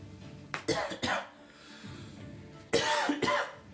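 Two pairs of sharp coughs, close and loud, separated by a short quiet pause.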